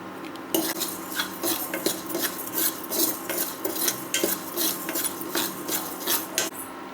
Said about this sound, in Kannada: ಮೆಂತ್ಯ ಮತ್ತು ಜೀರಿಗೆನೂ ಹಾಕ್ಬಿಡ್ತೀನಿ, ಒಟ್ಟಿಗೆ ಹುರಿಯೋಣ